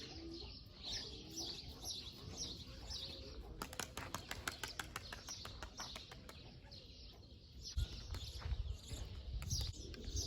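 Soft cooing of pigeons with a burst of rapid wing flapping in the middle, birds chirping faintly around, close and moderately quiet.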